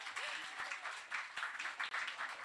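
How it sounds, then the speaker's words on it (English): A crowd at a student officer election night at the Dirty Duck gives steady, sustained applause for the candidates, a dense and fairly loud patter of clapping holding evenly from start to finish. "I'd like for you to applaud for them because they were amazing."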